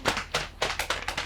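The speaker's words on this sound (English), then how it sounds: "Are you clapping?" Sparse clapping from a small audience, about seven distinct sharp claps in an uneven rhythm, fairly quiet and without talking.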